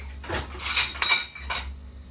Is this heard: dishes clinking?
yes